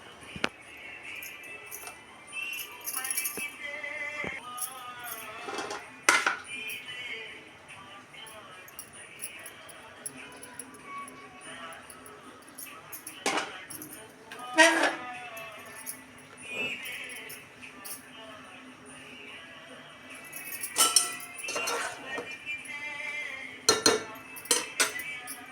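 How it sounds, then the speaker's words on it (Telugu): Metal utensils clink and scrape against a pan while dosas are made from idli batter in a village-style home kitchen. Sharp, irregular clinks are spaced through the clip over a quiet background. "అట్లయితే వేస్తున్నానండి ఇడ్లీ పిండితోటి"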